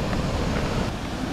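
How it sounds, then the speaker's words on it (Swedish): Sweden's largest waterfall roaring as a loud, steady broadband rush with a deep low rumble, continuous and close throughout. "Sveriges största vattenfall ska vi titta på."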